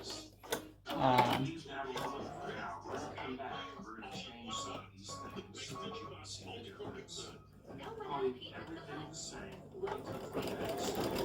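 An embroidery machine stitches stem stitches around flower buds, a rapid mechanical whirring and ticking heard close, with a person talking over much of it.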